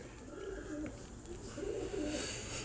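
Pigeons coo softly in low, rolling phrases, repeating a couple of times against a steady background hiss.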